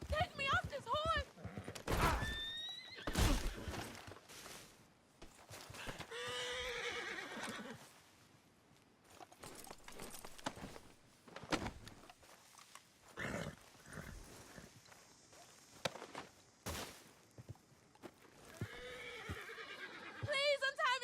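A horse whinnies and its hooves clip-clop in the video game Red Dead Redemption 2, with loud neighs between bursts of character speech and other game noise.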